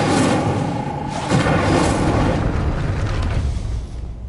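Incendio, the fire spell in the video game Hogwarts Legacy, roars out as a dense, loud burst of flame that holds steady for several seconds with a sharper thump partway through, then slowly tails off.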